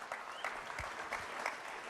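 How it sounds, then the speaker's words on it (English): A short burst of steady clapping from a moderate crowd, indoors and fairly close, with no voices over it. "big round of applause"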